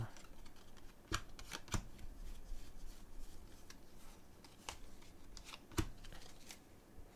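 Tarot cards are shuffled by hand in a series of crisp riffles and sharp snaps, quiet and close, with soft papery rustling between the louder clicks.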